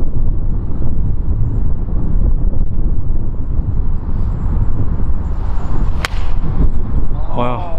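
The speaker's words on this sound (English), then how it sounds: "The wind's turned up now, you can see with a flag." Strong wind buffets the microphone on an outdoor golf course, a loud continuous roaring rumble that never lets up, with a brief sharp knock near the end.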